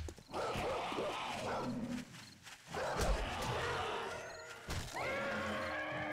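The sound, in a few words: dogs in the video game 7 Days to Die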